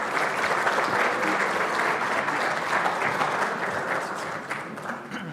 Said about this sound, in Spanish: Para recibirlo, le regalemos un fuerte aplauso